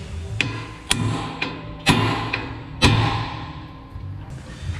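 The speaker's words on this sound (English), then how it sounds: "We're going to tap on here with a hammer and it'll break it loose from the spindle" Several sharp metallic hammer taps ring out one by one at uneven intervals, each striking hard and close on metal, knocking a ball joint loose from the spindle on a Toyota Tacoma.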